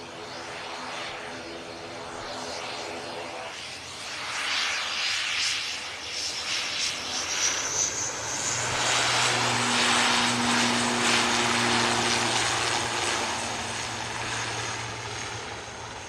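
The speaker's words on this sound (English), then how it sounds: "Here's the ATR, heading out to Belfast." An ATR turboprop airliner departs for Belfast at Manchester Airport, its propellers droning with steady tonal hums that build into a louder, fluttering engine roar as it heads out.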